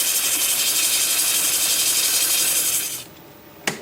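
Sanding the edge of a spinning Russian olive wood bowl on a lathe gives a loud, steady hissing rasp that stops abruptly near the end, followed by a brief knock.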